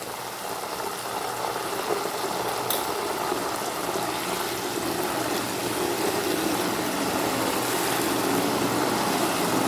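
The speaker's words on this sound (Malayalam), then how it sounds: "ഇനി നമുക്ക് ഉപ്പ് നീരൊഴിക്കാം." Salt water poured into a pan of salt being boiled, giving a steady, loud hiss of bubbling and sizzling liquid that continues without a break, with no talking.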